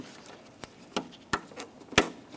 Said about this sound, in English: Slide that in, listen for a click